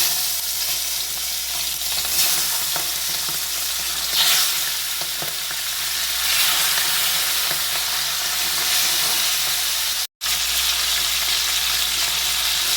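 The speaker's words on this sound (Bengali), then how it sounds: "মাছের মাথাগুলো আমি এখন আগে ভেজে নেব।" Fish heads fry in hot oil in a wok over a gas flame, giving a loud, steady sizzle and hiss close by that lasts the whole time, with a brief break near the end.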